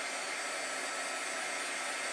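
Hair dryer blowing steadily at close range to dry paint on a wooden French country sign, a constant loud whooshing roar with no pauses and no talk.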